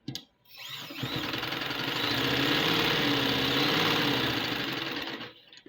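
A sewing machine stitching lace onto a dupatta, running steadily for several seconds with a fast, even mechanical whir that starts and stops abruptly, close and alone.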